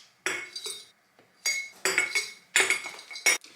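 A utensil scoops homemade granola out of a dish, giving five or six separate scraping clinks of metal on the container, close and distinct with short pauses between them and no voices.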